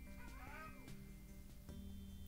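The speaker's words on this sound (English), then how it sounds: "My cat is creeping towards me." A house cat creeping closer gives a clear drawn-out meow, followed by a few quieter short mews, faint and close against a steady background hum.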